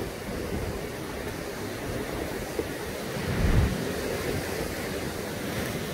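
Ocean surf rolling onto the shore at Songjeong near Jukdo Park, a steady broadband wash with wind buffeting the microphone and one heavier wave swelling briefly midway.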